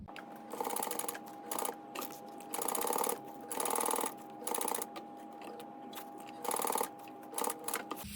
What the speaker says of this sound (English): I'm gonna baste just around just to hold that in place.